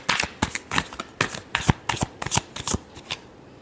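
Tarot deck being shuffled by hand, a rapid sequence of about a dozen crisp close riffling bursts in quick rhythm, with no talking.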